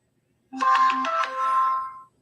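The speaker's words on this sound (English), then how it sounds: "Should I answer the phone, Dave?" Phone ringtone playing a short, loud melodic tune for about a second and a half, close by and with no talk over it.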